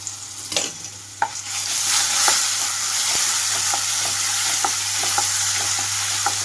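Ginger garlic paste fries with onions in a pan for a Kerala-style brinjal roast, a steady close sizzle broken by a few sharp clicks of stirring, with no talking.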